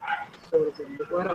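A dog barks a few times in the distance while a person talks steadily over it.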